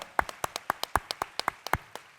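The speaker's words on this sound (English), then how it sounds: "Oh, yeah, you should applaud that." Comic Con panel audience applauding, here heard as a sparse run of about a dozen distinct handclaps spaced irregularly, fairly close and clear with no voices over them.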